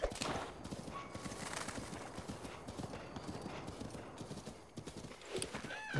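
A horse's hooves clip-clop in a steady, moderately loud rhythm in Zelda: Breath of the Wild, with a brief whinny and a few faint bird notes in the background.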